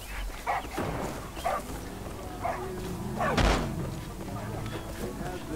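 Dog in the video game Far Cry 5 under attack, with scattered barks and yelps among thumps and slams, plus one loud impact midway; someone talks intermittently over the game sound.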